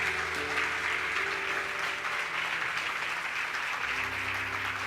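A church congregation at a Sunday morning service applauds to glorify the Lord, a steady blanket of clapping over a low sustained hum of instruments or organ that shifts near the end.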